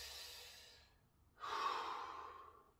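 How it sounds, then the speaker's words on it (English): Slow, controlled breathing during a plank: one long exhale fading out, a brief pause, then a steady inhale or exhale, close and soft with no talking. "in and out, in and out, not rushed breaths"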